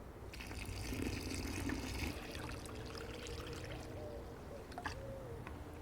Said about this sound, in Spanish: Ahora le vamos a poner lo que es el agua